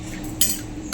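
Thoran being stirred in a pan, with a brief metallic scrape and clink of a utensil against the pan over a faint background hum.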